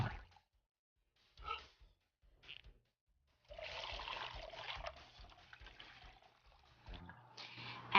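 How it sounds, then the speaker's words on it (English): Water splashes and trickles into an empty plastic pop bottle in short bursts, then a steadier pour fills it with a hollow gurgle, close by with no talking. "take an empty pop bottle and fill it with exactly 1 cup of water."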